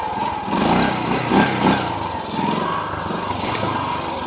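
Honda motorcycle engine heard while riding, a steady, fairly loud drone with slight rises and falls as the throttle changes, and no voices over it.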